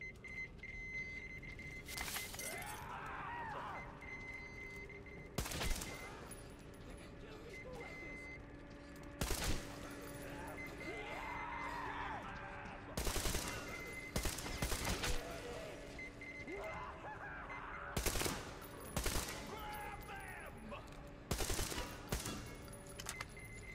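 Bursts of gunfire in the video game Metro Exodus crack out in short volleys every few seconds over a low, steady background hum, moderately loud and sharp.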